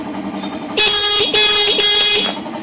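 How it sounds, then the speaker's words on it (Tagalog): Three loud, close motorcycle horn blasts, each a steady buzzy tone lasting about half a second, sounding over an idling motorcycle engine. "May busina"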